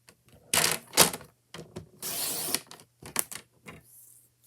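Scrapbook paper being trimmed a half inch off the edge with a paper trimmer, heard as close, brief bursts of slicing and rasping blade strokes with short pauses between, no talking.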